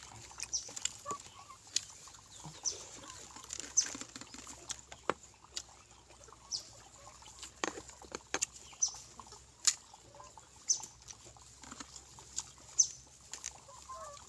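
Chickens cluck in scattered, faint bursts against a quiet rural background, with soft pattering and occasional small clicks between calls.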